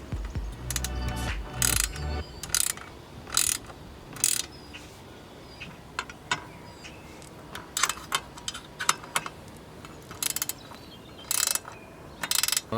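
Ratchet clicking in short bursts as it tightens a nut on an added front splitter of a Ford Fiesta, close and fairly quiet, with pauses between the strokes.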